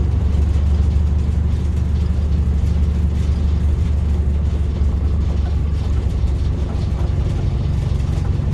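A Silversides bus engine drones low and steady in second gear, pulling with a heavy, constant rumble close by and no clear change in pitch.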